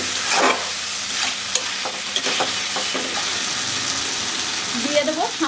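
Okra, potato and capsicum tipped into sizzling fried masala in a pan, a loud burst of frying at the start settling into steady close sizzling with stirring scrapes, and a faint voice briefly near the end.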